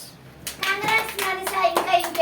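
Hands clap in a quick, uneven burst of sharp, close claps, with children's voices chiming in between the strikes.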